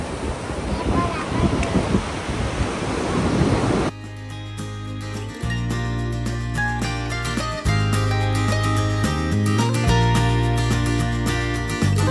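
Sea waves wash up onto the beach at Puri with a close, broad surging rush for a few seconds before music takes over.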